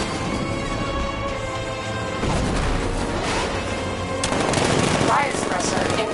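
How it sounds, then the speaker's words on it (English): A 60mm cannon fires in a Batman video game, sounding as a dense, continuous barrage of rapid booming blasts with crashing debris that swells louder midway through. "60mm cannon operational."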